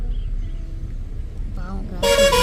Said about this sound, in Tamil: இந்த மாதிரி ஹார்ன் அடிச்சுட்டு